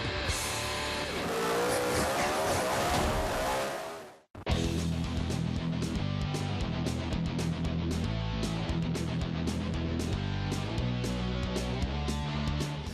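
Race cars drifting sideways at Queensland Raceway, loud engines roaring and tires squealing near and continuously, with a brief cut midway, then a rapid series of sharp bursts over the engine drone.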